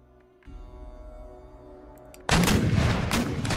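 Heavy howitzer artillery fire in Empire: Total War, a loud sudden broadband blast that hits after a stretch of quieter battlefield rumble and keeps roaring densely to the end.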